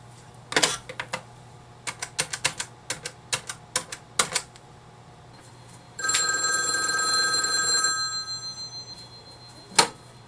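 A telephone rings in one steady burst of about two seconds, preceded by a quick series of sharp mechanical clicks and followed by a single click. The phone is plugged into the back of an ITI SX-V receiver to call a customer back.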